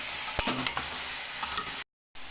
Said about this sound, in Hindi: इसकी मैं 2 मिनट भुनाई कर लूं